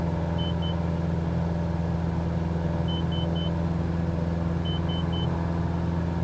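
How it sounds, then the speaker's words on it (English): A repeating stall-warning beep from a Robin light aircraft in Flight Simulator 2020 sounds in three short bursts of rapid high pips over a steady, loud engine drone. "Apparently that beeping sound is a stall sound."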